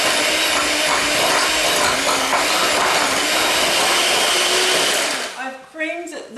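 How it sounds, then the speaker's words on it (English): Electric whisk beating butter and sugar for mint chocolate chip cookies, a loud continuous whir close by that cuts off near the end. "I am going to put that in with the sugar like so, and then I'm going to whisk these ingredients together"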